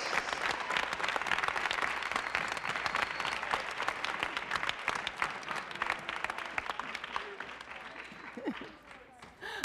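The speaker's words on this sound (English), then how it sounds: "Clap your hands and give him a praise." Church congregation clapping their hands during praise, a sustained crowd of claps with distinct sharp slaps, moderately loud and continuing for most of ten seconds, with voices calling out underneath before it eases near the end.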